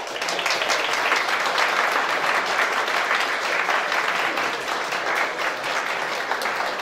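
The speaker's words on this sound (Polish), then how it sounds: "Dlatego bardzo Wam dziękuję i gratuluję i duże brawa." A full hall applauding at a Polish high school prom ball, dense sustained clapping that stays loud and even from start to finish.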